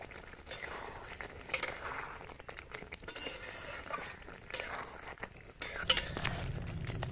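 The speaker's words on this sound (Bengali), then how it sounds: "ধনেপাতা আর গরম মশলা দিয়ে একটু নাড়াচাড়া করে নামিয়ে নেব" A spoon or spatula scrapes and clinks against a pot while potato aloo dum is stirred with chopped coriander and garam masala, giving an irregular run of soft metallic taps and scrapes.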